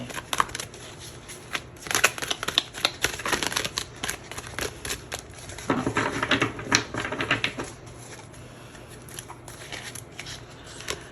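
Oracle cards being shuffled and drawn from a deck, a steady run of quick papery riffles and flicks up close, with a denser burst of card rustling partway through and no talking.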